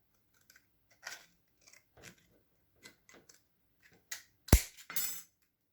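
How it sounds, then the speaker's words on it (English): Scissors snip through a plastic lid to shape a miniature sword, giving a series of sparse, sharp crisp cuts close up, ending with a louder crunching snap and a final scrape. "we're going to take our lid here and we're going to cut this into a sword"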